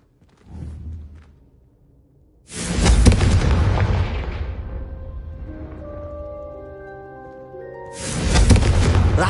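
In Hogwarts Legacy, a Confringo fire spell blasts candelabras with heavy booming bursts, the first long roar trailing off into crackling and ringing debris before a second loud blast hits near the end.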